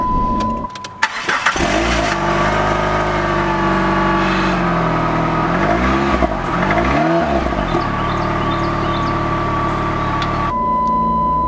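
PT Cruiser engine cranking and catching after an old-fashioned key turn, then settling into a steady, loud idle with a couple of brief revs, heard close up with no talk.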